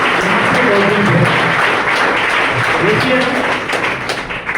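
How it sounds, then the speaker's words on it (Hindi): An audience at a company plan show claps loudly and steadily in applause for parents, a dense, sustained wall of clapping that fades slightly toward the end. "एक बार दिल से जोरदार ताली देनी चाहिए"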